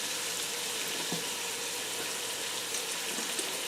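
Beef browns in a crowded pot for stew, giving a soft, even frying sizzle that runs steadily throughout, with a few faint ticks and no talking.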